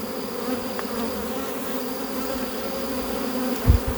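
A strong honey bee colony hums steadily and densely during a hive inspection, a close, continuous buzzing drone with a couple of soft knocks near the end.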